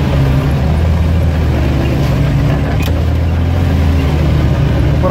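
A vehicle drives off-road at night along a rough tank road, its engine and tyre rumble a loud, steady, close drone throughout with no break.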